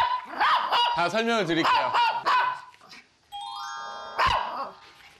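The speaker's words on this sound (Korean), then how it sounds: "꼬리는 흔드는데 짖는 거는 좀." An excited Maltese dog lets out a quick run of high, yappy barks at close range, then a bright chime rings and a person speaks.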